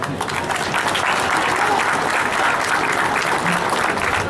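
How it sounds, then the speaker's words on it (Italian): A crowd at an award ceremony for a graduate thesis prize applauds steadily and fairly loudly, the many overlapping claps blending into an even, unbroken roar across the whole stretch. "È un po' più forte questo applauso."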